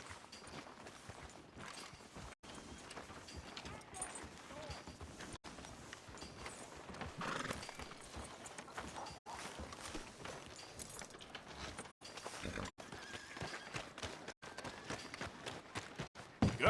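Faint, quick horse hoof clip-clops in Red Dead Redemption 2 patter continuously at a trotting pace, with brief gaps in the sound.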